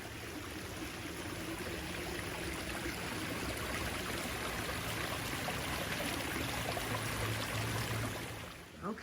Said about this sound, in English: her babbling brook that she has right in front of her house.